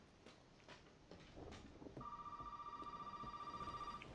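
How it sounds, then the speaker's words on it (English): A telephone rings in the horror video game Resident Evil 7, a steady electronic warble that starts midway and pulses continuously over quiet ambient rumble and a few soft knocks. "Oh, so the phone's calling now."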